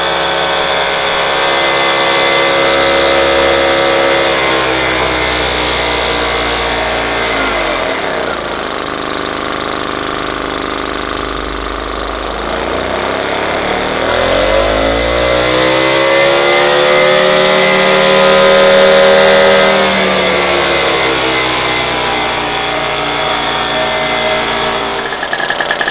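A restored Solex 3800 moped engine buzzes continuously during a throttle test, its pitch swooping up and down through repeated rev swells over a long stretch, close and loud with no talking.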